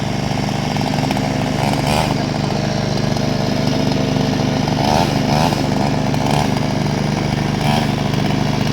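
Chainsaw running continuously at high revs while cutting a tree during a fire and rescue service training demonstration, loud close engine buzz with slight surges in pitch as it bites into wood.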